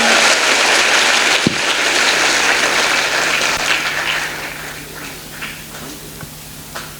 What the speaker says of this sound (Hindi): तुम लोग ज्यादा ताली बजाते हो